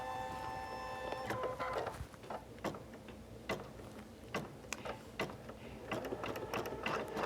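An embroidery sewing machine runs a basting stitch that tacks fabric onto a tearaway stabilizer, giving a steady mechanical whir broken by sharp ticking clicks and brief ratcheting bursts, close and alone without talk.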